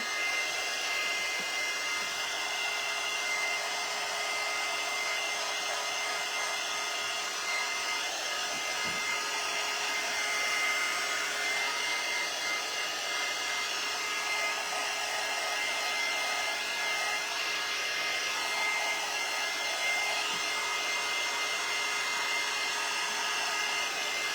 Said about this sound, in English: Mod Podge dries with a dryer fairly good.